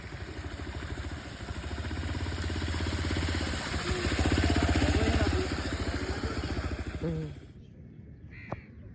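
A motorized vehicle passing along a wet village road near Kochi: an engine drone builds to a peak midway, then fades and cuts away, with a crow cawing faintly and no speech.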